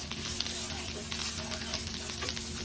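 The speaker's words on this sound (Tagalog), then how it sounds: "At isunod na rin natin ang ating sibuyas. Ayan, igisa-gisa lang natin." Garlic and onion sautéing in a hot pan for a pinakbet dish give a steady, dense sizzle with a few stirring scrapes, close and continuous, with no voices over it.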